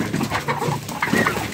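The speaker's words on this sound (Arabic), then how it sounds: "الطيور مش هتفضل رايحه جايه ورايا كده وهم جعانين" Pigeons on a rooftop being fed sweet potato and clover, a nearby flock giving soft, overlapping coos and low throaty calls in short uneven bursts.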